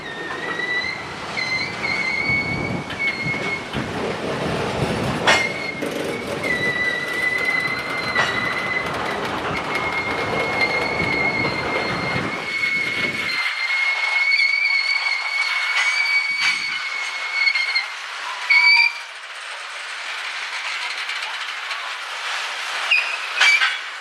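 A freight train rolls past on tracks around Saginaw, Michigan, with steady rumbling and high metallic wheel squeals, the low roar dropping away partway while squealing continues.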